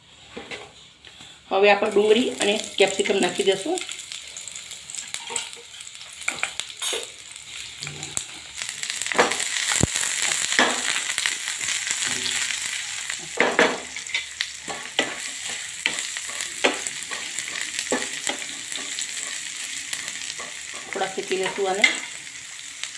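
Whole green cardamom, black cardamom and cinnamon pieces roast in a hot pan, giving a steady sizzle with intermittent stirring and scraping while a person talks over it.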